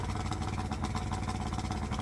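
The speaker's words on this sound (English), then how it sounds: "Okay, so we've got the engine running" A 1990 Johnson two-stroke outboard engine runs steadily at a fast, buzzing idle, its rough pulsing drone continuous and close with no other sounds.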